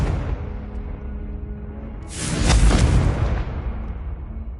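The Confringo blasting spell goes off in Hogwarts Legacy with a loud, booming explosion that bursts out about halfway through and rumbles away over a low continuous background, with no talking heard.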